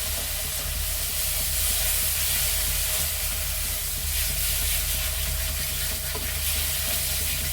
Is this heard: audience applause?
no